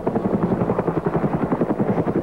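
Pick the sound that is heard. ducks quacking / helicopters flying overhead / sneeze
helicopters flying overhead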